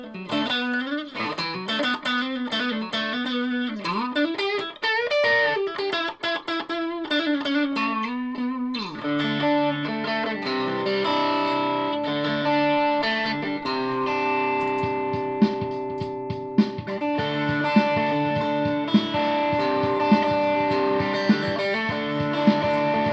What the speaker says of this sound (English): I'm now using a Boss overdrive pedal, which I found